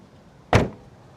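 A single solid thump of a BMW M2 Competition (F87) trunk lid shutting, close by, with a short fading rumble after.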